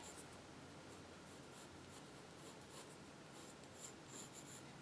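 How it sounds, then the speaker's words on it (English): A pen or marker lightly sketches on paper, soft scratchy strokes coming in short, uneven bursts, close and quiet, with no one speaking. "I'm going to start with just a light"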